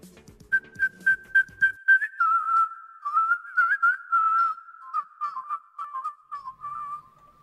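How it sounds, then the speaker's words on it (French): A melodic whistled tune, clear and close, with a run of short repeated notes giving way to longer sliding phrases, alone with no talk. "le sifflement parfois adoucit les mœurs"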